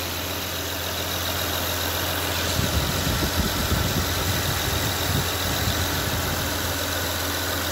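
A Honda Odyssey engine idles steadily just after starting, a constant close hum with a faint high whine, slightly rougher for a moment near the middle, with no voices.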